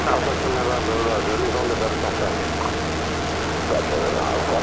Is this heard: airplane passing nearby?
yes